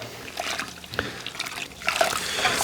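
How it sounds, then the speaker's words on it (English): Grain is stirred into water for a whiskey wash, with soft sloshing, trickling and dripping sounds close by that come in small irregular bursts and are fairly quiet overall. "We add a little bit, and we stir."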